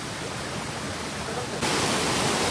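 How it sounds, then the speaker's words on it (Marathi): Waterfall water from the Sahyadri hills pours down in a steady, loud broadband rush, continuous throughout and growing slightly brighter partway through, with no voices. "सर्व त्याचं पाणी खाली येत आहे. पहा, इथं अगदी धबधब्याचं स्वरूप झालेलं आहे."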